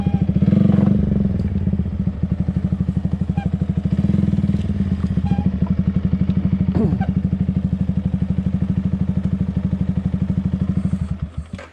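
A motorcycle engine runs steadily up close for the whole stretch, a throaty, rapid pulsing idle with a brief rev early on and faint clatter near the end.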